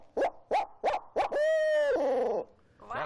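A person imitates a barred owl, giving four quick rhythmic hoots, then a long drawn-out wavering hoot that trails off, loud and close.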